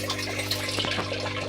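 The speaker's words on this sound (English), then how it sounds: "The water stops splashing." Water pours and splashes steadily into an aquaponics fish tank fed by a pipe, a continuous close gushing with a low steady hum beneath, loud and heard without talk.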